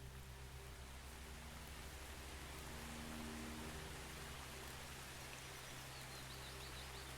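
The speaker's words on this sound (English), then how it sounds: "It's raining." Steady rain falls in a broad, even hiss that holds at a constant level from start to finish, with no voices over it.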